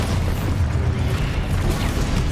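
Expulso spell blast in Hogwarts Legacy, a dense booming explosion with rumbling low-end roar that fills the whole moment, loud and sustained like ongoing debris and burst noise.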